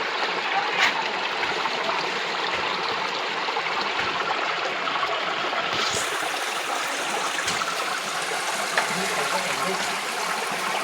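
A mountain waterfall pours over stones in a steady, dense, close rush of water that carries on evenly throughout with no voices.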